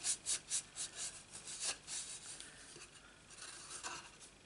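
Paper is rubbed down onto a handmade craft box with quick, rhythmic back-and-forth strokes that then settle into softer, irregular rubbing. It is faint and close, with no talking.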